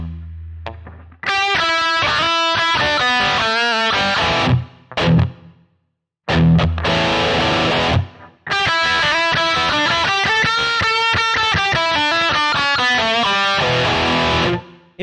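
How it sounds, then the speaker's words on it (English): Electric guitar driven through a Tube Screamer overdrive pedal into a Marshall amp, playing loud sustained distorted chords and riffs with brief pauses, no talking. "We also put an overdrive pedal in there that kind of drives the amp a little bit"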